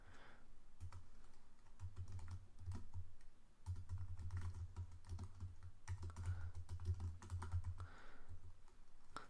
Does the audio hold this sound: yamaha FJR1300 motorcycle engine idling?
no